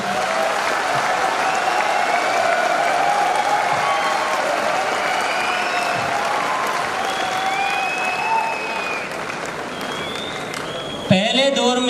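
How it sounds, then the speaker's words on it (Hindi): Audience at an anniversary event applauding and cheering, a dense, loud, sustained wash of clapping with scattered shouts, ending in a sharp knock. "आप इसके लिए जी भर के तालियां बजा सकते हैं, हो हल्ला कर सकते हैं।"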